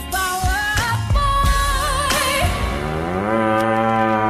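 A voice imitates cattle mooing at a live performance: a run of long, loud, wavering moo-like calls with strong harmonic tones that slide up and down.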